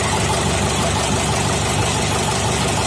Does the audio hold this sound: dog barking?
no